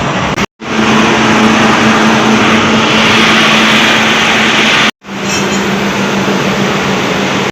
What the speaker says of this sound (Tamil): நம்ம ட்ராவல் பண்ண போகிற ட்ரெயின் இதுதான்.